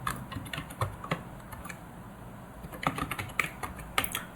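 Keystrokes on a computer keyboard as a username and password are entered on a login dashboard, with scattered clicks in two short bursts separated by a quiet pause, close and fairly faint.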